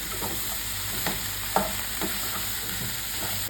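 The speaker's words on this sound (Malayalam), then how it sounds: "ഇതേ നമ്മൾ വേവിച്ച് വെച്ചേക്കുന്ന കോളിഫ്ലവറും ബ്രക്കോളിയും കൂടെ ഇതിലേക്ക് ഇട്ട് കൊടുക്കാം എന്നിട്ട് ഇതെല്ലാം നന്നായിട്ട് ഒന്ന് ഇളക്കി കൊടുക്കാം" Cauliflower and broccoli stirred into a chicken soup with Maggi masala, giving a steady soft sizzle with a few scraping clicks of the spoon, close and alone with no talking.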